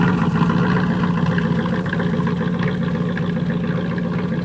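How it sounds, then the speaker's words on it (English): A 1991 Trans Am convertible with a chambered exhaust cruising down the road, giving a steady, continuous low engine drone that stays loud and even throughout, with no talking. "The chambered exhaust really sounds good going down the road."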